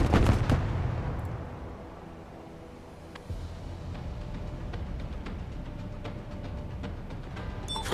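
Video game battle in Broken Arrow: heavy artillery booms and bursts of gunfire, with loud blasts at the start, then a steady rumble of distant shots and thuds.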